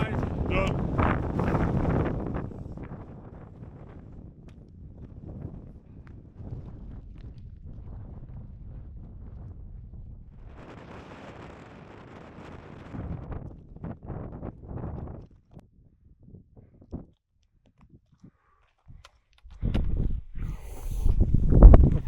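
Strong wind gusts buffet the microphone on an open fell during a Lake District hike, loud roaring bursts at the start and end with calmer patches between, and a voice speaks briefly near the start.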